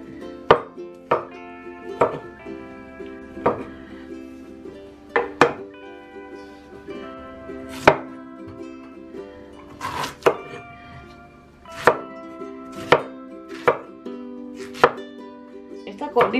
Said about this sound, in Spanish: Cortar los pedacitos más chiquititos